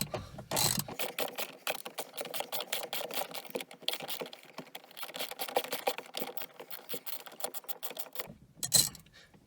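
A hand ratchet clicks steadily in quick, continuous strokes while backing out a bolt on a Jeep Wrangler JK A pillar, close and fairly quiet, with a short pause near the end.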